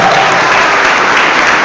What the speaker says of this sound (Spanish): Aplauso fuerte, fuerte, que se oiga